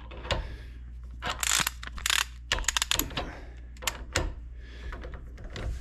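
Adjusting the setting on a torque wrench gives a close run of crisp ratcheting clicks and small mechanical rattles in uneven bursts, with no talking.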